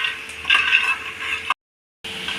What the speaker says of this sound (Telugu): అలాగే ఈ పల్లీలు మనం కొద్దిగా ఫ్రై చేసుకోవాలి.